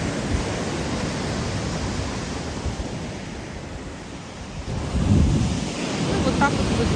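Sea waves breaking on a March beach at Bytkha, a steady loud wash of surf with wind buffeting the microphone and a swell of heavier breaking water partway through.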